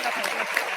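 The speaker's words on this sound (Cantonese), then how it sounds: "我哋一齊俾掌聲啊！" A theatre audience at a concert curtain call in Hong Kong's East Kowloon Cultural Centre applauds in a dense, steady wash of clapping for under a second.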